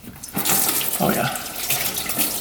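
Coolant gushes out of a disconnected cooling line on a freshly rebuilt, overheating UTV, a steady close splashing pour with no talk over it.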